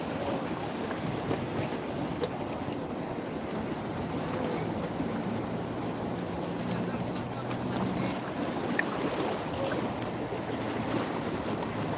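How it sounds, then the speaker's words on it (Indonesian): Ocean waves surge and wash steadily onto Pangandaran beach at high tide, a continuous broadband roar with splashy peaks and wind noise, fairly close and even in level, with voices talking faintly at times. "Tuh, semakin gede ombaknya."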